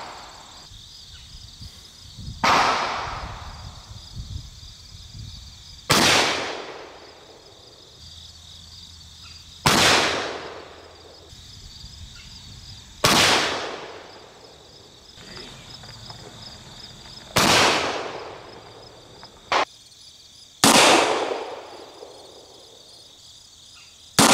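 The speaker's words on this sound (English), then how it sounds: "now let's take the Colt 1849 Pocket out and give it a spin" A Colt 1849 Pocket cap and ball revolver fires six sharp, loud shots outdoors at irregular intervals of a few seconds, each followed by a decaying echo, with quieter background between.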